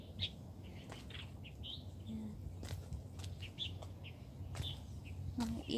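Scattered bird chirps and short calls over a steady low background hum on an evening hike, some near and some farther off, irregular and fairly faint.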